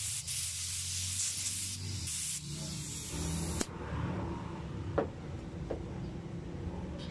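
An air compressor spray gun sprays in a steady broad hiss that starts and stops in bursts, with a few clicks of fittings near the end.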